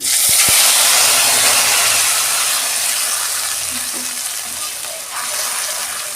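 Whole spices (bay leaf, cinnamon, cardamom, cloves and cumin seeds) and masala tempering in hot oil for a Bengali chana dal, producing a loud, dense hiss of frying that fades slightly, with a brief stir near the start.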